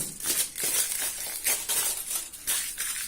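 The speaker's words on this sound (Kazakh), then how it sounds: "Қазір міне ыдысқа жаңағы мына фольганы аламыз да" Aluminium foil is handled and pressed into a bowl, making close, crisp crinkling bursts that repeat in uneven pulses with no talking.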